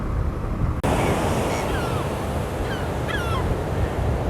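Ocean surf rolls onto the beach at Elands Bay as a continuous roaring wash, loud and near, with wind buffeting the microphone and faint bird calls above it.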